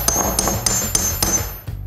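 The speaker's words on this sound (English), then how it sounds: "And now I'm gonna go ahead and swing the hammer on the block." A hammer strikes a heavy aluminum metal block resting on a hand, giving four sharp, evenly spaced metallic impacts close by, then a brief softer rattle at the end.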